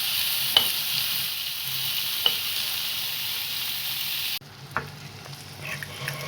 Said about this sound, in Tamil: எண்ணெய் இதில் ஊற்றி நம்ம முட்டையை இதில் உடச்சி ஊற்ற போகிறோம்